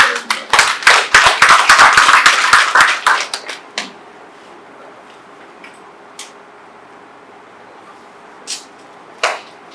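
An audience at a royal reception claps for an ambassador, loud dense applause for about three seconds that thins into scattered claps and then a few late isolated claps in a quiet room.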